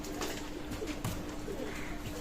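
A Pakistani teddy pigeon gives a few soft, close coos over faint background rustle.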